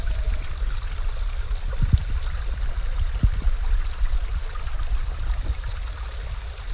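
A rocky creek flows and trickles steadily along a hiking trail near waterfalls, a continuous close babble of water with a few soft knocks and footsteps.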